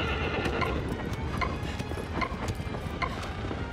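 A horse in Shadow of the Colossus trots with regular hoof clip-clops, while short mechanical clicks ring out at intervals over a steady game background.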